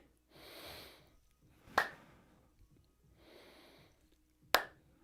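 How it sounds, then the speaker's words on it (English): Two sharp hand claps during a yoga flow as a student brings the hands together in a lunge, each preceded by a soft breathy exhale, spaced a few seconds apart in a quiet room. "When you bring the hands together, clap."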